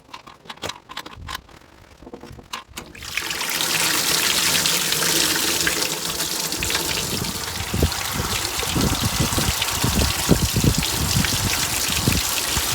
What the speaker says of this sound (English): then I'll flush it one more time just with clean water